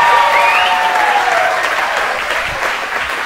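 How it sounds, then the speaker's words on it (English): Wedding guests at the Popponessett Inn on Cape Cod break into loud, sustained applause that fills the room and slowly tapers off, with a faint voice trailing underneath the clapping. "Let's give her a nice big round of applause."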